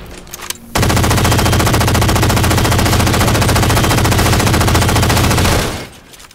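A loud, rapid automatic weapon in the video game Halo 4 fires one long unbroken burst of several seconds, starting abruptly after a quieter moment and tailing off at the end.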